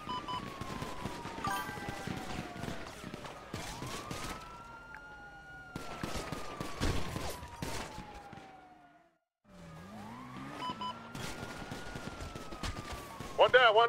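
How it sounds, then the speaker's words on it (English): Gunfire in a GTA roleplay game, scattered shots and bursts crackling through a busy mix of wailing police sirens and talk, the siren sweeping up and down over the shooting. "Shots fired on me."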